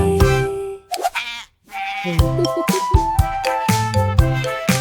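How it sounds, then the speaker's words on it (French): Sheep bleat repeatedly, loud and close, several wavering calls overlapping in quick succession with a short pause partway through. "les moutons marchent avec fierté"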